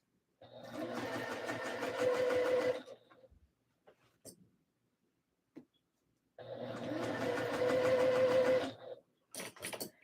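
A domestic sewing machine stitches a skort seam in two steady runs of a couple of seconds each, forward then back, with a quiet pause and small clicks of handling between them.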